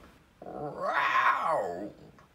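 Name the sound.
person imitating a mountain lion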